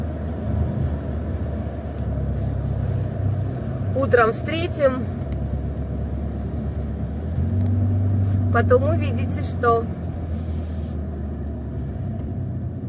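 Car engine idling and rumbling in a traffic jam, a low steady drone from inside the vehicle, with someone talking over it in Russian.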